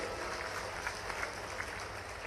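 A crowd applauds at a political speech, giving a steady, dense wash of clapping that sounds faint and distant, with no pauses over the short stretch.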